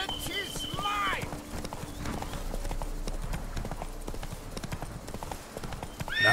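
Roach the horse in The Witcher 3 clops along with steady hoofbeats and lets out a whinny near the start, under game music and a few spoken lines.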